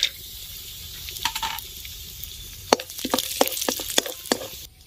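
Chopped cashews hitting hot ghee in a wok, with scattered sharp crackles and spattering pops and a few scraping stirs over a low hiss, loud and close.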